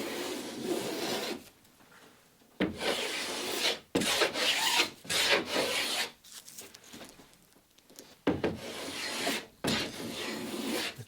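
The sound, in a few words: hand plane planing cedar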